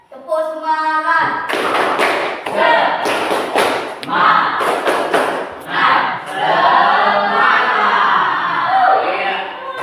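A classroom of junior high students performs spirit clapping during an ice-breaking activity, loud rhythmic bursts of group claps with thumps and shouts, overlapping voices and crowd chatter throughout.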